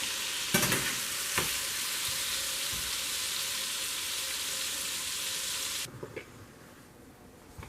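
Meatballs tipped into a pot after the oil is drained give a loud, steady frying sizzle with a couple of sharp knocks, then the hiss drops away, leaving a few faint clatters near the end.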